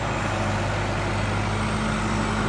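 A tractor engine runs at a farm while chicken litter is being loaded, a steady, close, low rumbling idle with no change in pitch.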